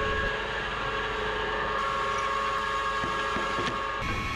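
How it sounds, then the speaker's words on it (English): Lathe running while a center drill bores into the faced end of a metal part for a chainsaw-powered Thai longtail boat, a steady mechanical hum with faint tonal whine and occasional clicks. "center drill it"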